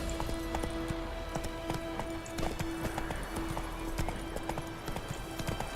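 Roach the horse's hooves clip-clop in The Witcher 3 video game, a brisk, even walking rhythm of close, sharp knocks over a sustained tonal hum.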